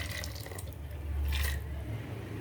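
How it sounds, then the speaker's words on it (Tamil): Half a glass of water poured into a cooking pot in a home kitchen, a steady close splashing trickle that swells briefly in the middle, with no talk. "ஒரு 1/2 கிளாஸ் தண்ணி தான் ஊற்றுறேன்."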